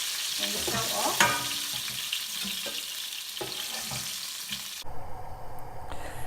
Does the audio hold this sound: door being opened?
no